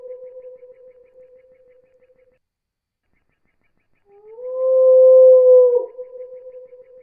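A frog call slowed to one sixteenth speed becomes a drawn-out, tonal howl: a steady low note, then silence, then a louder rising and wavering cry that sounds much like a wolf or coyote, heard alone.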